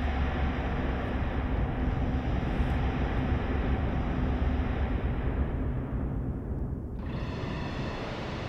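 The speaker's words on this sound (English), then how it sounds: "Start the train" A train in the game Spooky's Jump Scare Mansion rumbles steadily at moderate volume with a broad, low roar, and a higher mechanical hiss rises near the end.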